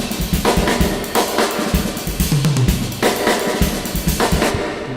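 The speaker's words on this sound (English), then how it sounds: "If you've got like reverb that sounds like this" Drum kit with a snare drenched in heavy reverb, each hit blooming into a long washy tail that fills the space between strikes, loud and close with no talking.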